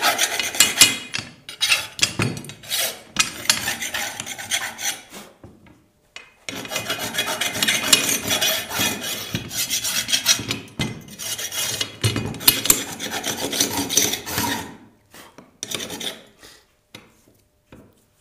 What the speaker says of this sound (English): Use an old chisel, not a good one.